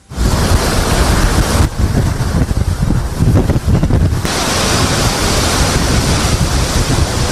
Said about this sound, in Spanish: Francine tocó tierra ayer en la tarde como huracán categoría 2 con vientos sostenidos de hasta 160 kilómetros por hora, así se escuchaba